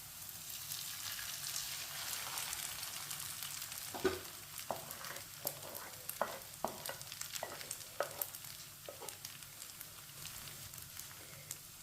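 Mixed leftover rice cooks in a pan with a soft, low sizzle, while a spoon scrapes and taps against the pan in an irregular run of stirring strokes.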